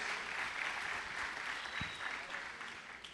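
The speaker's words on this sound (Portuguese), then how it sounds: "você pode aplaudir o Senhor pela vida deles" Congregation applause at a church panel event, a steady, moderately distant wash of clapping that continues evenly for the whole stretch.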